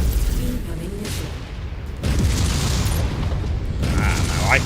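Missile explosions in MechWarrior 5: Mercenaries boom in a dense, continuous battle mix, with heavy low rumbles and mechanical clanks building louder in the second half, alongside a faint voice.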